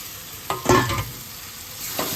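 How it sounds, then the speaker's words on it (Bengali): Paneer stirred into spiced oil in a pan, a burst of scraping and sizzling as the spoon moves, then a lower steady fry with another brief stir near the end. "এটা দিয়ে একটু নাড়িয়ে নিই"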